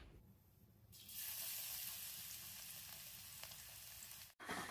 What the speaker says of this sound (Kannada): ಈಗ ಎಣ್ಣೆ ಕದತ್ರಿ, ಇದಕ್ಕ ಬೆಳ್ಳುಳ್ಳಿ ಹಾಕೊಂಡ್ರಿ.